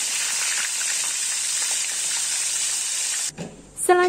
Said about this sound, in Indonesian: Selanjutnya, aku goreng tahu